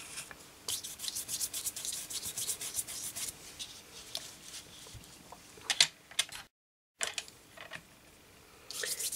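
Repeated dabbing and rubbing on a craft project to lift off wax, an Inkadinks wax technique: soft, close scuffing and brushing strokes in irregular bursts, faint overall with a brief silent gap, no talking.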